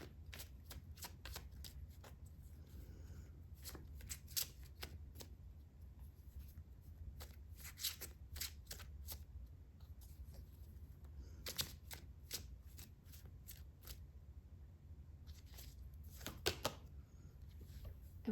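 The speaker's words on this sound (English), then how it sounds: "And I'll pull one card to clarify." Tarot cards being shuffled and pulled from the deck make a steady stream of close, crisp riffling clicks and slaps for about eighteen seconds, with no talking.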